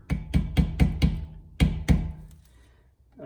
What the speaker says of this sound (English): then just gently smack this with a hammer